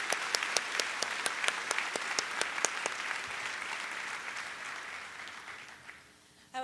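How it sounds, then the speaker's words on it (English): Students at a high school senior assembly applaud in an auditorium, a broad wash of clapping with sharp individual claps standing out early on, tapering off toward the end. "Please join me in a round of applause"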